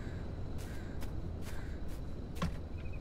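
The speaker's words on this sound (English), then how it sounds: "I hear the birds." Birds in the video game Pacific Drive give several spaced caws over a constant low rumble of ambient noise, faint and somewhat distant, with no talk.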